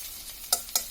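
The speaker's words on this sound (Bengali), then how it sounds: "হালকা একটু ভেজে নেব।" Chopped ginger and garlic fry in a pan with a faint sizzle, broken by two short, sharp stirring scrapes near the end.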